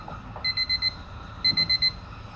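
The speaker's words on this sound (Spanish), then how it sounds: "se ha visto interrumpida por mi alarma personal a las 5:45 de la mañana" A personal alarm goes off at 5:45 in the morning aboard an overnight train: two bursts of four shrill electronic beeps each, loud and close, over a low rumbling background.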